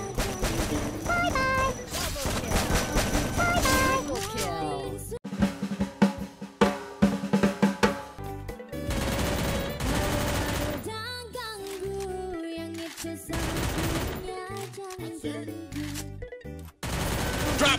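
Gunfire from the video game Free Fire during a drop shot, rapid bursts of shots over layered game music and effects, loud and busy with sharp repeated cracks across the whole stretch.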